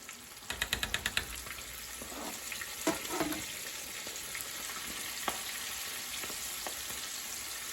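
Food fries in white grease held at 375 degrees, giving a steady loud sizzle and crackle throughout, with a quick burst of sharp pops near the start and a few louder spits and stirs later on.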